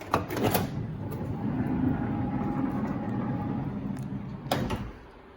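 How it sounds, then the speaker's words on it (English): A power sliding door on a 1999–2004 second-generation Honda Odyssey minivan, a door prone to sticking, runs with a steady motor whir for about four seconds between a latch clunk at the start and another at the end, close and with no voices. "When you go to open the passenger door or the driver door"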